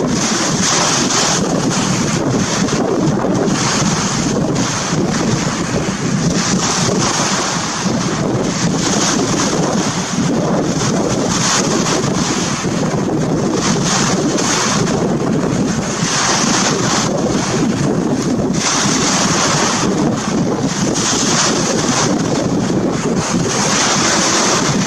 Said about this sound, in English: it's very windy right now, so I don't even know if you can hear me well